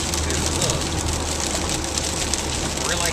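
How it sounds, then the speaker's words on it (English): Hail and heavy rain pound a car during a severe thunderstorm in Love Valley, a dense, continuous drumming roar on the roof and windows, close and loud throughout. "I feel like this might be the hail core."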